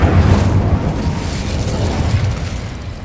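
Incendio fire spell cast in Hogwarts Legacy, a loud, rumbling whoosh of flame that booms at the start and rolls on steadily for a few seconds before easing slightly, with no talk.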